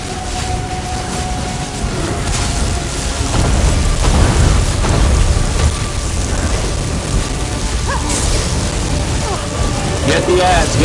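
Thunder and lightning crackle through a rainy storm in the online game Elder Scrolls Online, with a steady wash of rain-like noise and a few sharper cracks, under a background of game effects.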